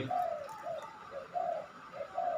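Young spotted dove kept as a competition cooing bird, giving a series of soft, rhythmic coos in short phrases, close and fairly quiet against a faint background hiss.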